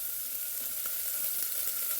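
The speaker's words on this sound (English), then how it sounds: "I'm going to go ahead and throw that turkey bacon right in there." Turkey bacon pieces sizzle in a pot, a steady, close hiss of frying throughout with no talking.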